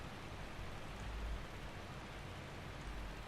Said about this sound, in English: It still pisses me off that it's still raining